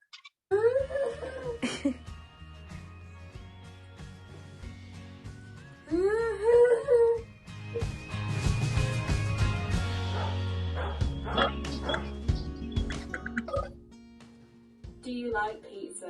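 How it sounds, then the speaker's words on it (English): A pet dog named as such gives whimpering, wailing cries and a few barks at close range, rising and falling in bursts across the clip over a steady background hum. "Here is my dog, Jack."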